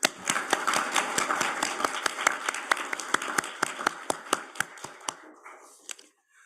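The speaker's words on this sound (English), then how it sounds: "please join me in a big round of applause for excellencies for our distinguished speakers" A small conference audience claps for the keynote speakers at a G7 corporate governance roundtable, a thin spread of distinct individual hand claps at moderate level that thins out and stops near the end.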